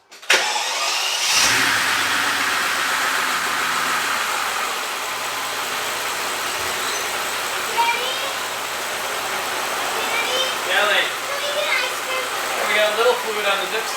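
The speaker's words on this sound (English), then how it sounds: "I'm just gonna start the car again, run it" A Mercedes CL65 AMG engine cranks and catches, then settles into a steady, fairly loud idle with a few small revs, close by with no talking.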